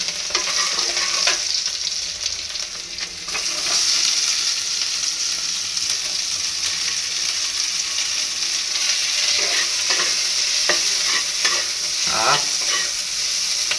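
Chicken pieces frying with garlic, sizzling loudly in a pan, with a steady hiss and occasional scraping strokes of a spatula stirring the pieces.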